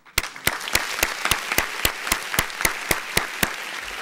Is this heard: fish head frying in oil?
no